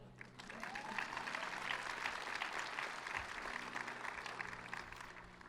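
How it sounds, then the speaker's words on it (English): Audience applause at a Marist College undergraduate commencement ceremony, a sustained, dense wash of many hands clapping, heard from a distance and fairly quiet throughout. "You can applaud them now."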